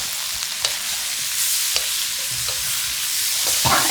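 Spring onion green tops stir-frying in a wok for a spicy Chinese dish, a steady close sizzle broken by a few sharp clanks and scrapes of a utensil against the metal, with no talk.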